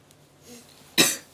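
A single sharp cough from a woman streaming live, loud and close, preceded by a faint quiet murmur.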